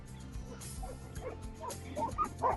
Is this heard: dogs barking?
yes